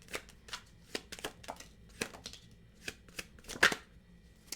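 A tarot love deck being shuffled close up, a series of quick riffling and slapping card bursts in an irregular rhythm, alone without talk.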